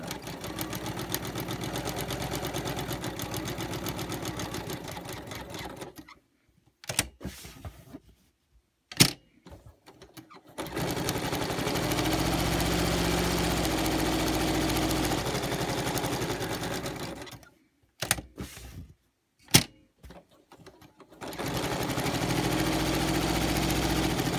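Sewing machine stitching a second line along a planner cover, running in steady bursts of motor hum and rapid needle chatter, stopping twice for a few seconds of near silence with small clicks before starting again.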